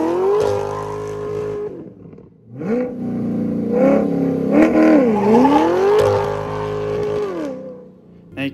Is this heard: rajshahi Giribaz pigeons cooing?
no